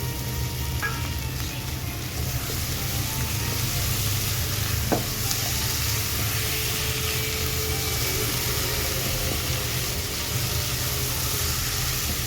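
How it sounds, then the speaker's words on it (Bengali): Spice masala frying in oil in a pan for a sea crab curry, giving a continuous, even sizzle with a soft hiss and one faint click midway. "দেখুন মশলাটা আমার বেশ ভালো করে ভাজা ভাজা হয়ে গেছে"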